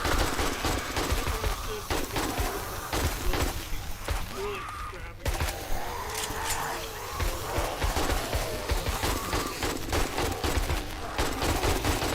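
Rapid bursts of automatic gunfire ring out in the survival game 7 Days to Die, near and loud, with continuous rattling volleys and only brief gaps, while a voice talks over the shooting.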